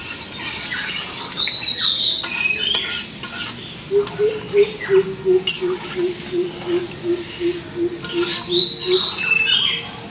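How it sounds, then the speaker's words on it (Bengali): Birds sing high, clear chirping phrases in a village near the start and end, alongside a steady run of rhythmic tapping and scraping from stirring a curry in a pot. "কি সুন্দর পাখির ডাক"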